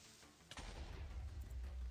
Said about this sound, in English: big creep explosion